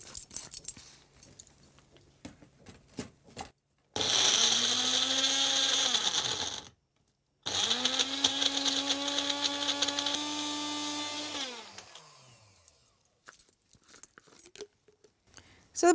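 A kitchen mixer grinds carrots into a smooth paste, a loud steady whir in two bursts with a short pause between them, each ending as the motor winds down.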